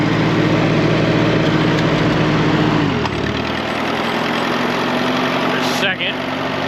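A tractor engine runs loud and steady in gear with a mechanical drone, suspected of a problem in the left final drive; the pitch and load drop partway through, and a voice is faintly present.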